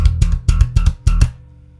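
A bass guitar is slapped sloppily, leaving unmuted open strings ringing. A quick run of loud, percussive thumps and pops plays alone, then trails off into a lingering string ring.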